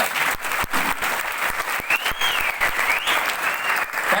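An audience at a seminar in Kota claps together, dense steady applause with sharp individual hand claps standing out, sustained throughout without a break.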